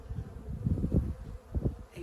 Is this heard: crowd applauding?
no